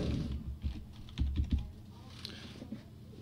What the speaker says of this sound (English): And you can now type the name in.